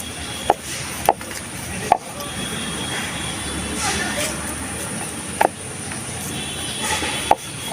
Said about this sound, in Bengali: এবার আমি বেলে নেব ময়দা মাখিয়ে।